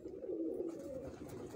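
A rooftop-loft pigeon gives one soft, low, rolling coo that carries on for about a second and a half, fairly faint and with no voices around it.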